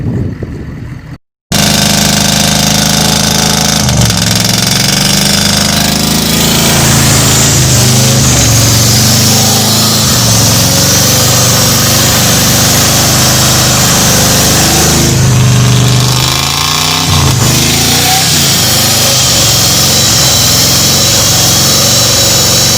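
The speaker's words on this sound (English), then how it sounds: "putting the spark plugs back in, and we're just going to see if we can get it to fire" A 1986 Ford Bronco being revived after sitting, its engine catching after a short cranking burst and then running steadily and loudly with rough idle and occasional revs, all close and without any talking.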